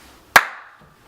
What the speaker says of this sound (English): hit him with the clap